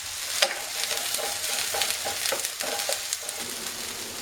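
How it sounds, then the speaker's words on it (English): Vegetables for ratatouille fry in olive oil in a skillet on medium heat, a steady close sizzle broken by scraping stirs. "So we fried 2 minutes on high heat and now we continue on medium."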